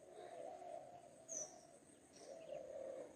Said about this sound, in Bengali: পাখির যে ডাকগুলো, কত সুন্দর